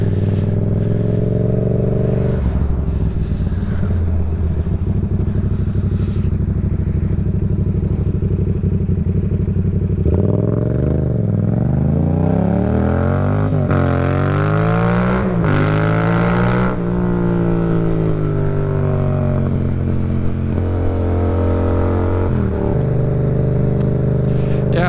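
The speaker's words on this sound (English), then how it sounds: "I would say this bike is running amazing. Even in third gear, it wants to just pull hard." A tuned 2018 Yamaha MT-07 motorcycle accelerates hard, its engine note climbing and dropping through gear changes in a loud, close, continuous roar with wind noise from the rider's position.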